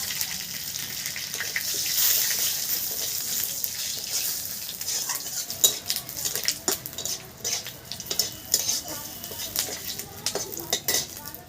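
Cumin seeds, dried red chillies and bay leaves hitting hot oil for a Bengali bhetki fish-bone curry give a steady close sizzle, broken by clinks of a utensil against the pan and scattered sharp taps, with no talking.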